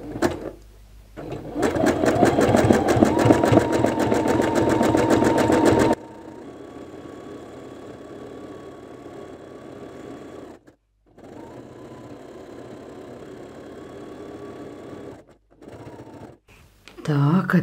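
A simple home sewing machine stitches monogram embroidery, running as a loud fast rattling buzz for several seconds and then stopping. Quiet speech and faint handling noises follow.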